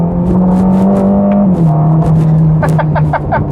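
Ferrari Roma engine winding out under acceleration, a loud, close, rising drone with a gear change midway, with short vocal exclamations from the driver near the end.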